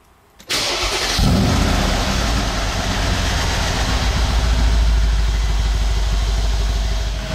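Maserati MC20 GT2 Stradale started outdoors in Monaco: a sharp starter crank, a loud bark as the engine catches, then a rough, high steady idle with light revving held close.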